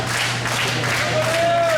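Wrestling crowd at a tag team match cheering and clapping steadily in a hall, a dense continuous roar throughout with a brief whistle-like tone near the end.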